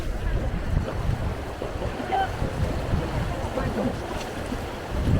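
River rapids on a raft trip down the Indigirka, with churning water and waves slapping steadily against the raft under wind noise, while people shout to each other.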